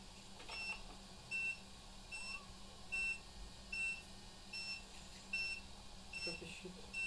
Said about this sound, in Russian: Что пищит?